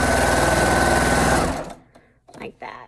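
A sewing machine stitching arm warmers runs loud and steady for about a second and a half, then stops, followed by soft handling noises and brief speech.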